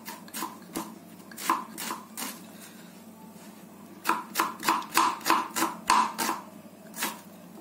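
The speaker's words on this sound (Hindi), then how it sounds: "प्याज को बारीक चॉप करें।" Onion is chopped finely with a knife on a board, sharp rhythmic cuts in two bursts, a slower few strokes and then a quicker run of about ten crisp chops, close and clear with no voices.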